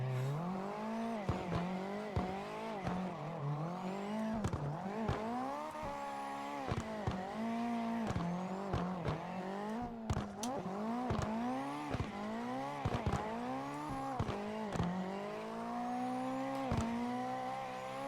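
Nissan S15 drifting in the CarX Drift Racing game, its engine revving hard and rising and falling in repeated surges through third and fourth gear, with tire squeal between shifts, loud and continuous.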